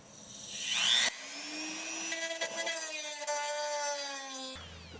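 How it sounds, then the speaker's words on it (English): A Dremel rotary tool cuts during a C3 Corvette pop-up headlight conversion, giving a thin, high whine that rises as it spins up and wavers in pitch under load, then stops abruptly after a few seconds. "Dremel is gonna have to step up"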